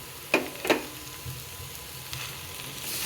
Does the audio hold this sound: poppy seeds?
yes